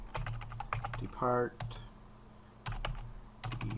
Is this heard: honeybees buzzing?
no